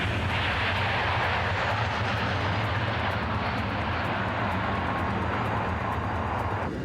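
A high-speed TGV train at record speed gives off a steady, loud, roaring rush much like a jet airplane. The roar holds constant throughout with no speech.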